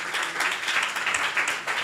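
An audience at a Vyasa Puja celebration breaks into steady, dense applause, close and loud, sustained through the whole moment.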